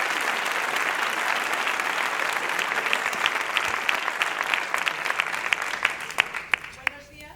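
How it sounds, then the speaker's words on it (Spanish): Sustained applause from a large conference audience filling the room, steady and dense, thinning into scattered individual claps near the end. "y fuerte el aplauso para ellos"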